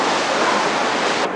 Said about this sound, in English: waves not being huge today.